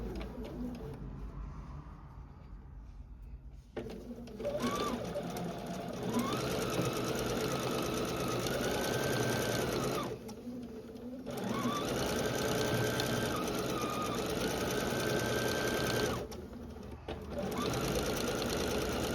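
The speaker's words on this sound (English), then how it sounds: "And then I'm going to sew my hem down." A sewing machine runs in long steady bursts while stitching down a hem in a weaving studio, whirring close by with brief pauses between runs, and birds coo faintly in the background.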